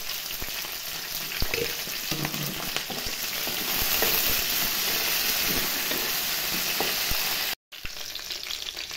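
Green chilies, cumin, coriander seeds and curry leaves fry in hot oil with a continuous close crackling sizzle and occasional stirring, no voices, broken by a brief dropout near the end.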